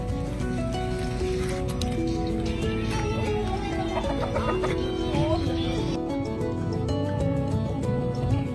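Jungle fowl cluck repeatedly in a busy outdoor setting, with other farmyard noises and occasional voices in the background.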